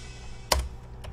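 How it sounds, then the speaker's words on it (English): Keyboard key press triggering a DubTurbo drum sample, heard as one sharp, loud hit near the middle over a steady low background hum, followed by a couple of fainter taps toward the end. "What you heard there was me pressing the keyboard and it triggered our sounds."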